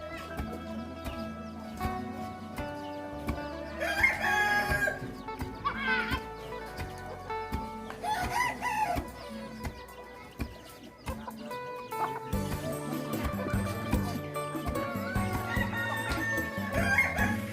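Chickens cluck and a rooster crows repeatedly in a Bru ethnic village in Savannakhet, Laos, moderately close, with occasional faint voices in the background.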